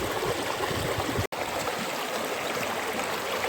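Water rushes steadily through a gold sluice outdoors, a constant close broadband wash with a single brief dropout partway through.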